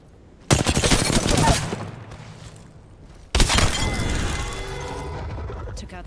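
R301 assault rifle firing in Apex Legends, two sustained automatic bursts with rapid cracks and shell clatter, loud and close, the second burst longer and trailing off.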